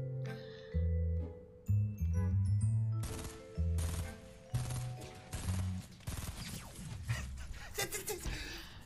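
Bursts of video game gunfire in Fortnite crackle in quick rapid volleys with bright metallic transients, alongside music and effects, loud and busy throughout with no clear speech.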